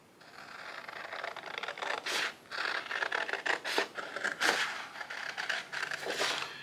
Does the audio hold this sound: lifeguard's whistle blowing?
no